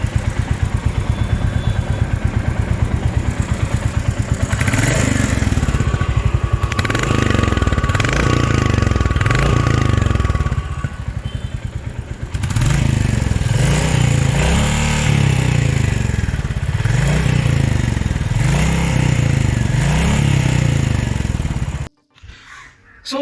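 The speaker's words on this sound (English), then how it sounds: "So we are riding the Classic 350." A Royal Enfield Classic 350 motorcycle with a single-cylinder SOHC engine and 5-speed gearbox runs under way on the road, a loud, close, steady thumping exhaust pulse with repeated rises in pitch as it accelerates through gears, before stopping abruptly.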